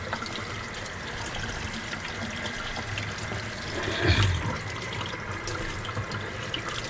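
Tap water running steadily into a sink while a tie-dye shirt is rinsed, a constant moderate splashing flow with a brief louder surge midway as the shirt shifts under the stream.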